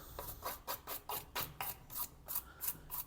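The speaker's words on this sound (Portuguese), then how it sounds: "primeiro eu passo aqui uma ferramenta abrasiva, fazer a limpeza, tirar esse resíduo de solda" Abrasive tool scrubbed back and forth over solder residue on an LG Inverter air conditioner circuit board, about ten rapid rhythmic rasping strokes, close and fairly quiet.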